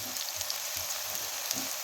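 Garlic added to onions browning in a pan, frying with a steady close hiss and faint crackles for a couple of seconds.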